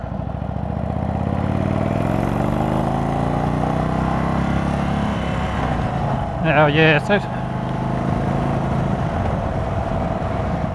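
An Indian Chief Dark Horse motorcycle engine runs steadily at high revs with a coarse, buzzing drone, up close, while someone talks briefly over it.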